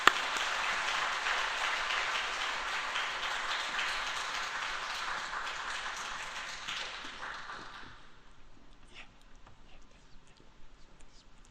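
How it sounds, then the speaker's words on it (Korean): A church congregation at a Wednesday prayer meeting in Yeongju Church applauds to welcome a speaker: a full, sustained round of clapping for about eight seconds that then thins out into a few scattered claps and quiet room noise. "오실 때 박수로 맞아주시기 바랍니다."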